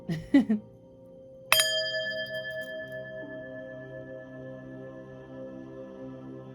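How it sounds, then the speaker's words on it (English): A single struck bell rings out once, sharp onset followed by a long, clear sustained ring that slowly decays, used to clear energy during a reading; a brief vocal sound precedes it. "let's hit the bell, clear your energy, and get into it"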